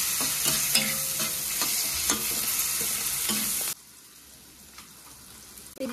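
Ground spices frying with onion and tomato in a pan for a katla fish curry, a busy close sizzle with stirring scrapes that cuts off abruptly to a quiet background with faint clatter.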